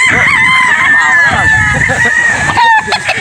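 A game fowl rooster crows at a game farm, a loud close cock-a-doodle-doo that rises and holds before breaking off. Other fowl cluck around it and someone talks over part of the call.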